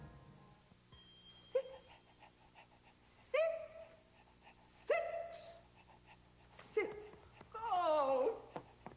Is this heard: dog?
yes